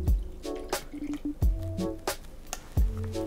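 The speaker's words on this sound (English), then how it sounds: "we are going to add 75 milliliters of milk" Milk is poured into a bowl of flour with a hollow well in the center. Close, wet drips and soft squishy splashes land in a few repeated bursts.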